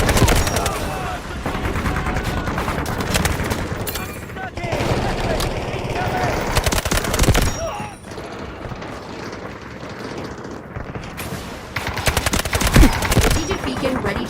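Enemy troops attacking in the Delta Force video game unleash dense, continuous gunfire, loud and close, with machine-gun bursts and overlapping shots from several directions.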